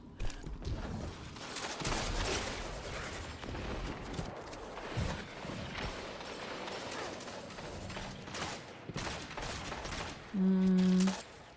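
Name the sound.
scout rifle gunfire in a video game (Destiny, Iron Banner)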